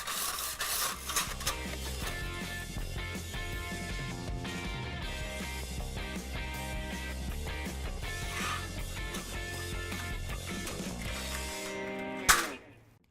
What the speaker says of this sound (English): just come in with some 220 sandpaper and just sand all these sharp edges